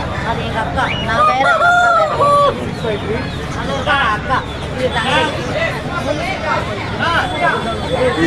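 A rooster crows once amid a busy crowd at Pallavaram Friday market in Chennai, its call rising clearly over steady market chatter and voices.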